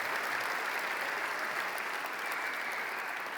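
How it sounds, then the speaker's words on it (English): An audience at a high school commencement ceremony applauds the principal, a sustained, even roar of many hands clapping from a large crowd, with no pauses from start to finish. "Give your principal a big round of applause, if you would, a big round of applause."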